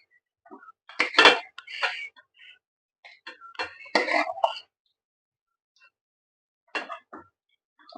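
Mutton curry is served from a cooking pot into a bowl, with a few scattered bursts of close metallic clinks and scrapes from a spoon against the cookware, separated by quiet gaps.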